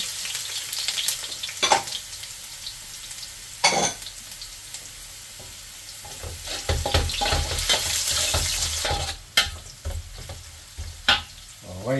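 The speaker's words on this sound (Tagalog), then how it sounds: "Lagay na luya. Bibisa na tayo." Ginger sautéing in a pan in a home kitchen, a steady loud sizzle and frying hiss with stirring scrapes and occasional clanks of the utensil against the pan, close up with no talk.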